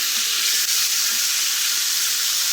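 Eggs fry in a hot pan in a home kitchen, a loud continuous sizzle and hiss filling the whole stretch without pause.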